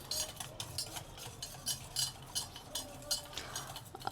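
A spoon swirls through a gram flour and water batter for kadhi in a bowl, scraping and clinking in a steady, rhythmic stirring pattern, close but fairly quiet.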